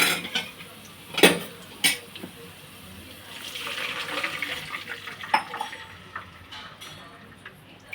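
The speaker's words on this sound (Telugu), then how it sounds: "నీళ్ళు వేసుకున్నాను" Water poured from a glass into a hot pan of fried rava for upma, a rushing splash with clinks of utensils against metal, close and fairly loud, then steady simmering hiss.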